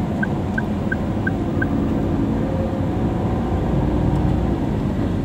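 Five evenly spaced electronic beeps from a 2024 Toyota Agya Type G CVT warn the driver to shift gear in city traffic, sounding clearly over a steady, loud cabin and engine hum that continues after the beeping stops.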